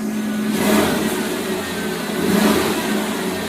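A 1982-92 Firebird or Camaro engine idles smoothly after a fuel pump and tank replacement, a steady close-up hum that swells gently twice and stays even throughout, with no talking.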